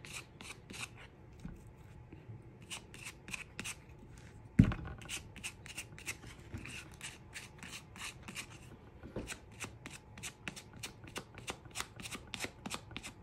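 A plastic key card spreading spackle over a stencil on a journal page, making repeated short scraping strokes in a steady rhythm, close and fairly quiet, with one sharp knock partway through and no talking.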